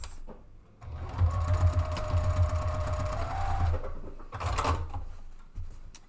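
A sewing machine stitches down a 5/8-inch seam along the edge of a fabric panel for a drawstring picnic bag, running in a steady, close, continuous motor hum with fast needle clatter. It pauses briefly, then gives a second short burst.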